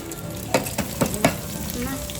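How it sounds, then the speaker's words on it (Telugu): Tempering for sambar and dal sizzling loudly in hot oil at a street food stall, a steady frying hiss broken by three sharp crackling bursts as spices hit the pan. "సాంబార్ తాలింపు, పప్పు తాలింపు రెండింటికి కలిపి ఒకదాంట్లో వేసేస్తున్నా."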